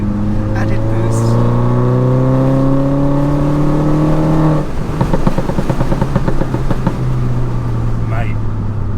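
A modified R56 Mini turbo accelerates hard in sport mode, its engine note climbing steadily before a gear change brings a rough, crackling burble, all heard from inside the car with occupants talking over it.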